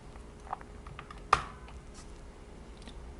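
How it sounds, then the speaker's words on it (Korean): Keys on a computer keyboard tap quietly as a Ctrl+M shortcut is pressed in Photoshop, one soft click followed by a sharper, louder keystroke in an otherwise quiet room. "컨트롤하고 알파벳 M을 같이 누르면 커브라는 창이 뜰 거예요"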